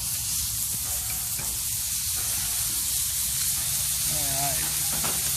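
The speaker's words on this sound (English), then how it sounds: "we'll go ahead and throw these steaks on" Steaks frying on a griddle at a Christmas breakfast cook, a continuous loud hissing sizzle filling the whole clip with a brief faint warbling tone near the end.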